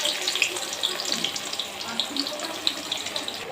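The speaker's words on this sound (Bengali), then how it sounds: "এখন এখানে দিয়ে দেব কেটে রাখা পেঁয়াজগুলো।" Chopped onions are added to a hot pan for an egg korma and sizzle with a dense, steady crackle of small pops from close by, with no talking.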